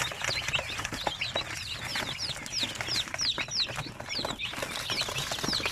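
Basilan, Zampen and Shamo Aseel chicks hatched from an incubator peep continuously in a dense, overlapping chorus of high chirps, close by, with faint rustling underneath and no talking.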